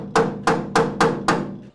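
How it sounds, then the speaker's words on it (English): A hammer strikes a metal punch five times in a steady rhythm, marking spot welds on a Datsun 240Z body shell with new frame rails. Each strike is a sharp, ringing, close metallic clank. "we're gonna mark those off with this punch so we could get a nice solid drill started"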